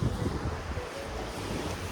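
Surf rolling onto the beach at Hat Sam Roi Yot, Thailand, a steady broadband wash with wind buffeting the microphone, continuous and fairly close with no voices.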